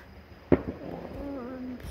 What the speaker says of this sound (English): Where's our fireworks? Ah, there we go.